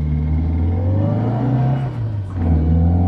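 An Abarth car engine revs loud and close, climbing in pitch, dipping briefly, then surging again with a steady rumbling drone underneath and no other sound.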